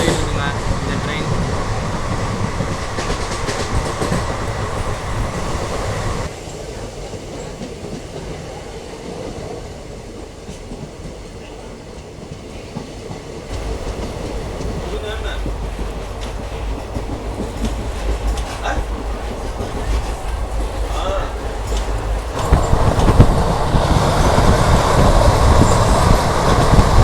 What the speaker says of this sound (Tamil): நம்மளுடைய ட்ரெயின் பேசஞ்சர் ட்ரெயின் தான், ஆனால் எக்ஸ்பிரஸ் போகிற ஸ்பீடில் போயிட்டுருக்கு